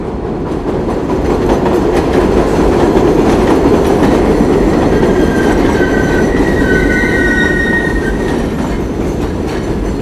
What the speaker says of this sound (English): Here comes the subway.